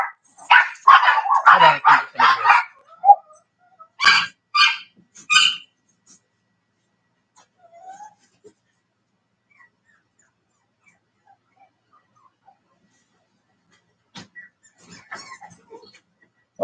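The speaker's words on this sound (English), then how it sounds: "That was just the dogs barking at the neighbor walking his dog" Several dogs bark in rapid bursts at a neighbor walking his dog, loud and close at first, then a few more yips after a pause, with stretches of near silence between.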